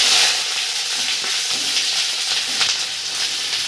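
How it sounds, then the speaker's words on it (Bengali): Onions frying in a hot kadai that already holds dry red chillies and whole spices for a Bengali mutton curry: a steady, loud, close sizzle and hiss throughout, with no talking. "বেশি ভাজবো না, পেঁয়াজটা ছেড়ে দিব।"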